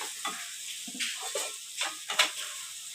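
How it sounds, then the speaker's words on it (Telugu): Ginger garlic paste fries in a pan on a low flame, giving a close, steady sizzle broken by sharp crackling pops and spatters. "ఈ అల్లం వెల్లుల్లి పేస్ట్ పచ్చివాసన పోయేంత వరకు వేపుకోవాలి."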